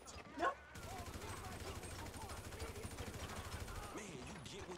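A sniper shot in GTA 5 rings out as a sharp burst near the start, followed by steady game sound and excited talking over it.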